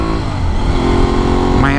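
An Aprilia Tuareg 660 motorcycle engine drones steadily close by, a loud continuous rumble with a slight rise in pitch near the end.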